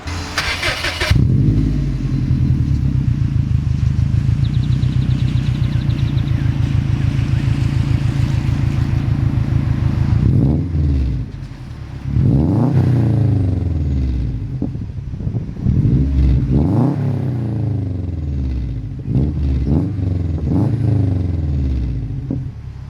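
A GD-generation Subaru WRX fitted with a FAF turbo-back exhaust, stock and untuned, idles loudly close by and is blipped through several short revs, its note rising and falling in quick bursts after a long steady idle.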